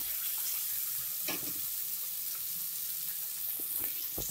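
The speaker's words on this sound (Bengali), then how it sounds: "এবারে একটু ভালো করে মশলাটাকে ভাজা ভাজা করে নিতে হবে।" Masala with chopped tomatoes and a splash of water frying in a pan for an egg curry, giving a soft, continuous hiss and sizzle with a few brief stirring clatters.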